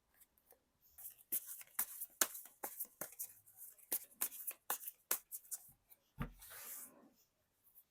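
Tarot cards are shuffled and handled up close in a quiet room, producing a rapid series of crisp riffling snaps and soft slaps in irregular bursts, ending with a longer rustle.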